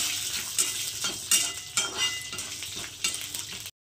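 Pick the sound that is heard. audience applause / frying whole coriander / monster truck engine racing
frying whole coriander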